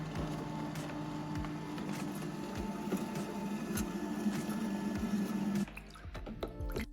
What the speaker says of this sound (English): Let's toss them in the machines and let them work.